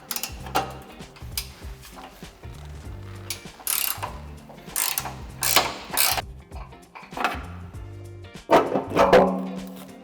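A wrench ratchets on a bolt under a Mercedes GLC X253 during tow hitch installation, close bursts of rapid clicking repeated several times with metallic knocks and pauses in between.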